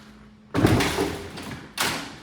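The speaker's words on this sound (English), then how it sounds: "stay even though Josh walks out the door." A house door opens and shuts as someone walks out, two close, loud wooden thuds about a second apart, the second sharper, with a faint hum underneath and no talk.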